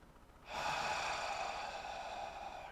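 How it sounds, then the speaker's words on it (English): A single long, deep inhale during a yoga hamstring stretch, a close, airy breath drawn steadily through the nose for about two seconds, with no speech over it. "Breathe in deep."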